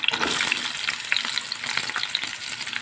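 Julienned onions sauté in a pan of melted fat for Egyptian shawarma, a loud, close, constant frying hiss with scattered sharp pops and light stirring, no voices.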